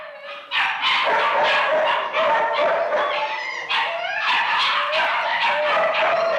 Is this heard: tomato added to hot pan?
no